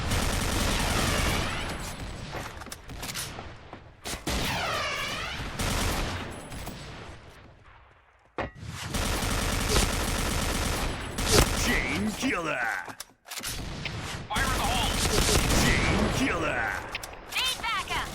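Gunfire in the online shooter Point Blank comes in long, dense bursts of rapid automatic shots, broken by short pauses, loud and continuous through most of the stretch.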